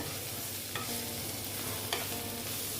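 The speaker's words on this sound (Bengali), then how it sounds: "তারপরে দিচ্ছি আমি হলুদ গুঁড়ো দিয়ে এবার আমি এটাকে ভালো মতন ভেজে নেব মানে কষিয়ে নেব" Banana stem with turmeric powder frying in a pan, giving a steady broadband sizzle with two sharp stirring scrapes, close and moderately loud, no talking.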